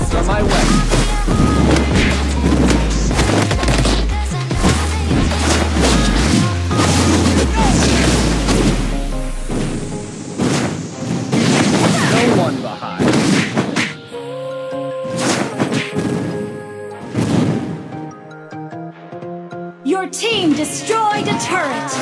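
Video-game explosions blast a turret apart in a run of loud, repeated booms and crashes, dense at first, then breaking into separate sharp bursts over a lingering hum.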